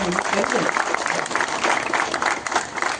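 Applause from an audience at a political speech in Konkan about a road to the Mumbreshwar-Mumbradevi temple, a dense steady patter of many hands clapping through the whole stretch, with a voice rising briefly underneath.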